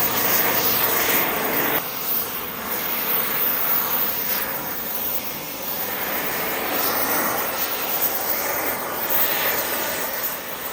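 An oxy-fuel torch preheating a Toyota axle before welding on a cap, giving a loud, steady roaring hiss of flame that stays close and continuous throughout.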